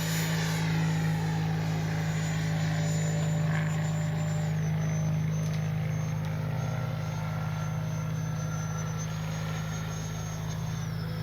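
An FMS 80mm Futura V3 RC jet flying over a runway, a steady loud whine and roar of the ducted fan that holds constant with a slowly shifting high tone, with no talk.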